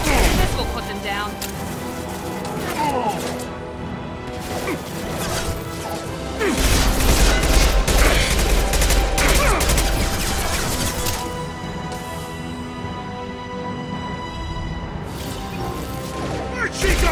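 Gunfire and crashing impacts from the video game Mass Effect 2 come in dense bursts over a loud, busy battle din, and game voices speak at times through the mix.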